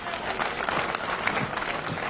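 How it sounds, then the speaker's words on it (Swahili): Kenyatta University students at a political rally break into dense, steady applause from a large crowd for about two seconds, with no clear voices above it. "Mjipigieni makofi"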